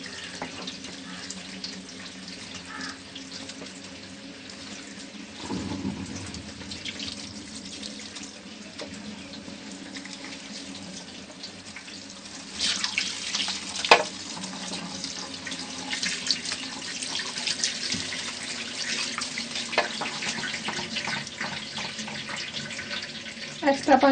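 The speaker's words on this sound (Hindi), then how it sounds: "ऊपर से हम ठंडे पानी से इसको धो लेंगे ताकि ये चावल आपस में जुड़े वगैरह नहीं" Cold tap water runs over rice in a strainer, a continuous splashing stream that grows heavier and louder partway through, with a few clinks of handling.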